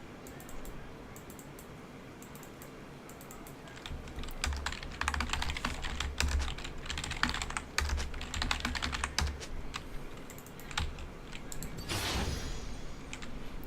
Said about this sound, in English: I was typing to him.